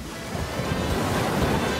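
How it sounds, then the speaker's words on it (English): A small antique boat heading into sea waves, with a dense, continuous rush of surf and water churning mixed with wind noise, loud and close with no talking. "Whoa, we're going into the waves."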